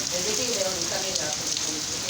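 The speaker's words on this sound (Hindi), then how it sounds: "ये बारिश कैसे बरस रही है आज" Steady rain in a village in Kotri, a dense close hiss of drops on surfaces with a faint murmur of voices underneath throughout.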